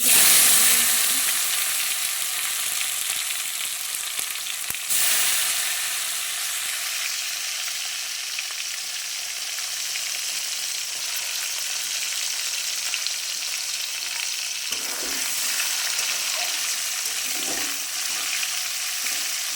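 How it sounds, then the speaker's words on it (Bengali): Nigella seeds crackle and sizzle in hot oil as a tempering for a spicy pabda fish curry, a steady close broadband hiss lasting throughout with a few soft stirring knocks. "একটু কালো জিরে ফোড়ন দেব একটু কালো জিরে দিয়ে নিয়েছি"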